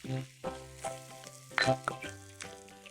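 Onions hit hot oil in a pan, sizzling and crackling in short bursts as they are dropped and stirred, close and fairly quiet, with no talk.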